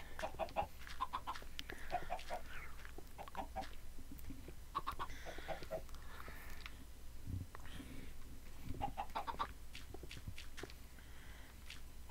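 Minecraft chickens clucking in a survival game, repeated short clucks in scattered bursts across the stretch, moderately near, mixed with footstep-like clicks and soft background noise, with no talking.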